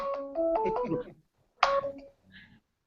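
Incoming-call ringtone on a mobile phone plays a short bright melodic phrase, then a second burst after a brief pause, fairly close and clear with little talk over it.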